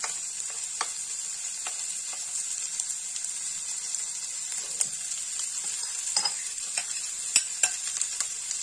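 Sliced onion browns in a pan with no fat added, giving a thin, steady high sizzle with scattered spatula taps and scrapes as it is stirred, close and moderately loud, with no talking.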